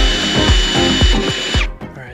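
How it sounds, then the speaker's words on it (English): A power drill whirs loudly and steadily, rising and dipping in pitch as it bites into a carbon fiber car hood, then winds down and stops near the end. "We are gonna have to drill through here."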